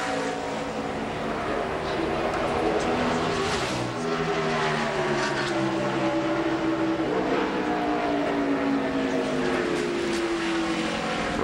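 A NASCAR Busch Series stock car screams through a qualifying lap at Gateway, the engine note rising and falling through gear changes and corners, steady and loud over a commentator's voice.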